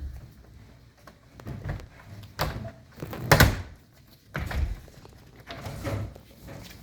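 Double-hung window sash being worked loose and pulled out from inside, a series of scattered wooden thumps, knocks and scraping slides, moderately close and fairly quiet.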